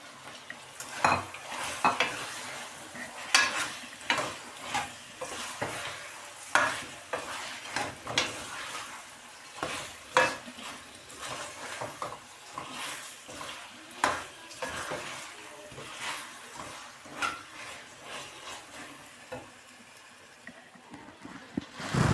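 Bhuna beef fries in a pan with green coriander and green chillies while a spoon stirs it steadily, giving rhythmic scraping and clattering strokes against the metal over a low sizzle, all close and fairly quiet.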